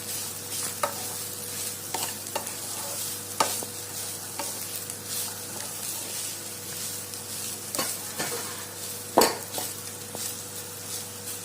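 Mango rice with sugar is stir-fried in a pan, a soft continuous sizzle broken by repeated scraping and clinking of a spoon against the pan at irregular intervals.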